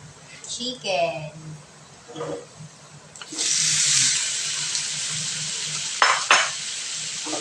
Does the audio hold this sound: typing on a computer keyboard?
no